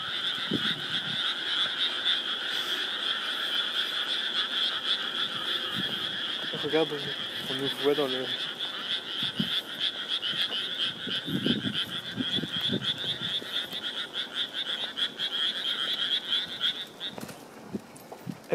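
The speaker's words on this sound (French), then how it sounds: "Ce sont les grenouilles de l'université." Frogs at a university croak in a dense, continuous chorus, loud and steady throughout, with voices talking briefly underneath partway through.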